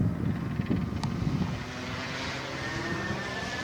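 A model F8F Bearcat airplane's propeller hums overhead with a thin, rising whistle, fading from a louder pass into a steadier, fainter drone amid light wind.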